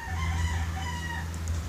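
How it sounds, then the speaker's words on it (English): A rooster crows and chickens cluck nearby, a continuous barnyard call over a low steady hum. "And you can probably hear some chickens outside."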